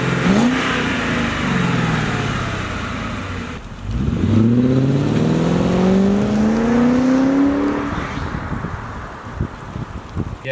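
Volvo 240 fitted with a Cobra engine revs hard and pulls through the gears, loud and close, with rising engine tones, a brief lift around the shift and wind rush over the microphone.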